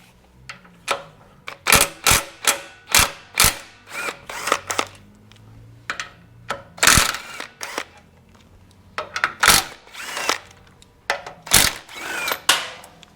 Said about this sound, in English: we are going to have to remove these 4 10mm bolts on the jack shaft assembly